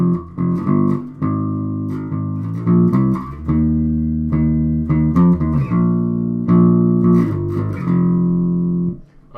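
A bass guitar plays a riff, a bouncy sequence of clear, sustained low notes with quick slides and finger noise, up close and alone.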